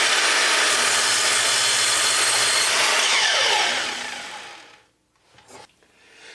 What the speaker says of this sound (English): I'm just going to cut that 5 degrees on the sliding miter.